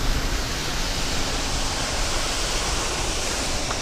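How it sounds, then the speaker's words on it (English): A lit outdoor water fountain at night splashes steadily, a dense, even hiss of falling water that stays loud and unbroken throughout, with no talk. "That's a pretty water fountain."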